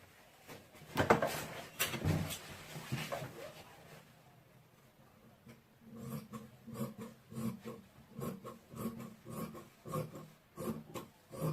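Scissors cut through fabric for a ruffle crop top: a rougher rasping stretch first, then a quieter pause, then a run of close, rhythmic snips.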